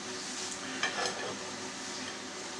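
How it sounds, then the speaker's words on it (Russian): Onion fries in a small pan with a soft, continuous sizzle, and brief stirring scrapes come through in the middle. "взять лучок, поместить его на сковородку и обжарить до золотистого цвета"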